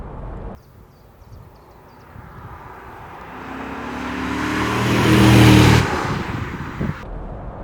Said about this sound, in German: eine echte Achtzylindermaschine mit echten 5 Litern Hubraum